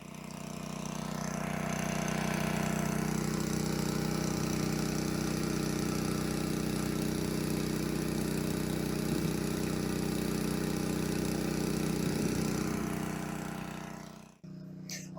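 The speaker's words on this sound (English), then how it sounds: "He was trying to start the generator up and it wouldn't start." A generator engine runs steadily beside a well it is pumping out, a continuous mid-pitched drone that holds close and loud before cutting off at the end.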